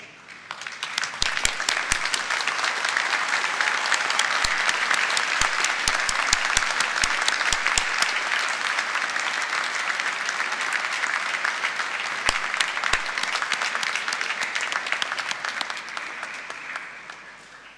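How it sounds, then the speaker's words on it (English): Graduates at a winter graduation ceremony stand and applaud their supporters, a dense, sustained wave of clapping from a large seated crowd that holds steady for the whole stretch, with a few sharper claps standing out near the front. "applaud your supporters"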